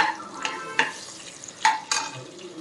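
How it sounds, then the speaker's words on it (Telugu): Cashews and curry leaves fry in a little oil with a soft sizzle, broken by a few irregular spatula scrapes and clatters against the pan, nearby and without voices. "క్యాష్యూ నట్స్, ఇంకా కరివేపాకు, లైట్గా ఆయిల్ వేసుకొని ఫ్రై చేసుకుంటున్నాము"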